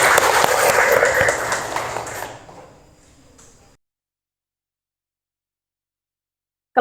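A ninth-grade class in an Islamic religious education lesson breaks into loud, dense applause that fills the room for a couple of seconds, then fades into low murmur and silence.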